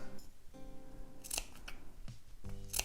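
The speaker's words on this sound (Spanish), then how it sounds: "por eso estas tijeras son tan precisas, porque es muy difícil que te pases" Small precise scissors snipping notches into fabric for a sewing project, a few crisp close-up cuts in quick succession with short pauses between, in a quiet room.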